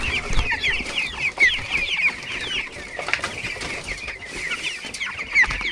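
A flock of chickens clucks and squawks in a busy overlapping chorus, loud and close, with scuffling and movement underneath.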